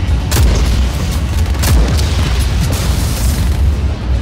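Heavy booming explosions in the video game Just Cause 4, several deep blasts in quick succession over a rumbling low background, loud and close.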